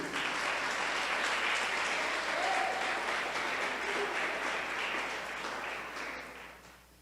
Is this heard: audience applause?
yes